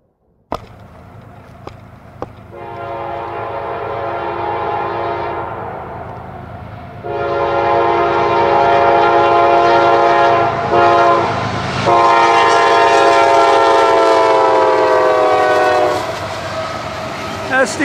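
A KCS freight train led by an SD70AC locomotive passes close by, sounding long, loud horn blasts in several bursts over the heavy rumble and clatter of rolling railcars.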